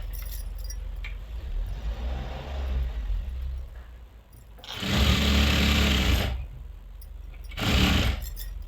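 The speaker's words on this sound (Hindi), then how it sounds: "तो एक पैर का दबाव लेते हुए सिलाई लगाएंगे" A sewing machine stitches a lehenga belt in two bursts, a longer whirring run followed by a short one, loud and close, with quieter handling noise before them.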